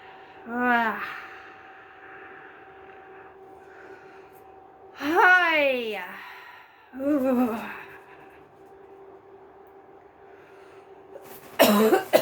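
Three bursts of harsh, throaty coughing, each a cluster of rasping hacks separated by quiet breathing, followed by a sharp final noise.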